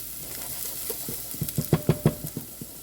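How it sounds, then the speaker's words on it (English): Ingredients sautéed in a pan for Hainanese chicken rice give a soft sizzle with a series of stirring scrapes and clanks that grow in the middle and then fade, heard up close with no talking. "I'm just gonna saute that real quick"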